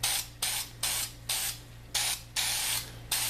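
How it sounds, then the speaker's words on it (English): Short bursts of spray lacquer coat a walnut salt cellar, seven or eight hissing puffs in a steady rhythm, each a second or less and separated by brief pauses, close and fairly loud with no talking. "Just hit it with a coat of lacquer."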